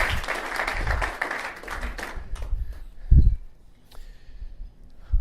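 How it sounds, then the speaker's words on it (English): Audience members applaud at a speaker training session, a brisk burst of clapping that fades after a couple of seconds into scattered claps, a thump and light room noise. "Let's give him a round of applause."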